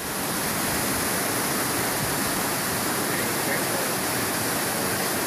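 Floodwater from heavy rain rushes loudly and steadily through city streets in Santa Ana, a dense, continuous roar like a torrent that sweeps along vehicles and debris.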